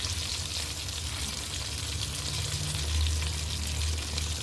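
Brinjal curry fries in a pan with garlic as curry leaves go in, a loud steady sizzle and crackle that continues without break, close up.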